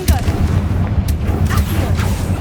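The Confringo blasting spell in a Hogwarts video game sets off heavy, booming explosions with a deep rumble and several sharp cracks, loud and continuous.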